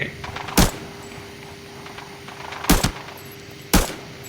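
Sharp gunshots ring out in the tactical shooter game Arena Breakout, three separate loud cracks spaced irregularly over a quiet low hum, with no talk.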